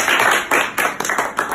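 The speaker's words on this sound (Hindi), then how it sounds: "तालियां बजा दे।" A group claps their hands during a hypnotism demonstration, loud and close, in a quick run of broadband bursts that settles into a few spaced claps, with no talking.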